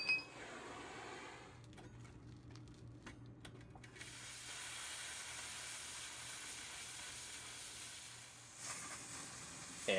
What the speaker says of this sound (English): Then it's back on the torch to shape some more of the base.